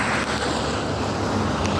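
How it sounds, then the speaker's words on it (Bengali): Heavy rain and runoff on the streets of Riyadh, Saudi Arabia, a dense steady wash of water noise, close and continuous, with no talking. "আজকে অনেক বৃষ্টি হইতেছে সৌদি আরবে।"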